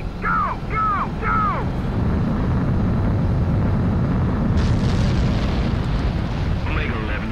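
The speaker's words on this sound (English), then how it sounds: "Omega 11, you are cleared for takeoff" A fighter jet in Ace Combat 7 roars down the runway for takeoff, a loud, steady, broadband engine rush. Radio chatter with bursts of warbling tones sits over it.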